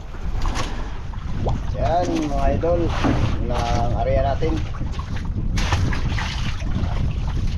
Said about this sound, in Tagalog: medyo mahangin konti